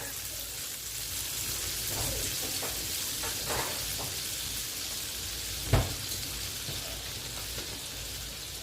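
Butter and white oil melt in a pan with a steady soft sizzle and crackle, a few sharper pops and one louder clack partway through, close and continuous without talking.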